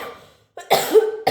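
A couple of harsh, close coughs after a moment of quiet, followed by another short cough burst.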